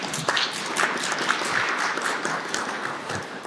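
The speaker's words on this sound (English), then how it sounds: "Huge applause once more." An audience at a panel session applauds continuously, a dense wash of many hands clapping that holds steady at moderate loudness for a few seconds with no talk over it.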